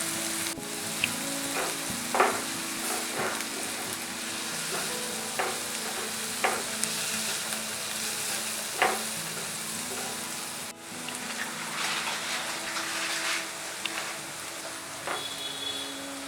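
Salted onion sautéing in a pan for penne pasta: a loud, steady sizzle with periodic stirring clicks and tosses, close and continuous throughout.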